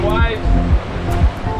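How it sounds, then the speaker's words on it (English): Big sea swells roll into a coastal sea cave off Tasman Island, surging and washing in loud repeated pulses about every half second, with a voice talking over the water. "the waves get big enough here that they would have rolled in, hit the back of the cave"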